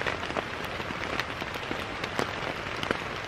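Rain patters steadily on a tarp at a palm-shaded Florida campsite, a dense, close crackle of drops with scattered louder taps and no voices.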